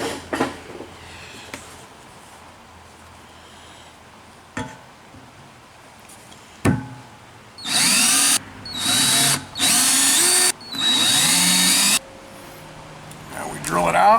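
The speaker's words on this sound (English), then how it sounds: "And now to pilot drill it" Several loud bursts of a power drill pilot drilling a hole, each lasting about a second with short pauses between, after some quiet handling clunks.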